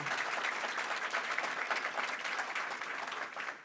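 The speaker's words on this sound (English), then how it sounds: "Let's give another round of applause here." Applause from an audience at a New York State airport infrastructure event, a fairly faint but continuous stretch of clapping with no speech over it, heard from some distance.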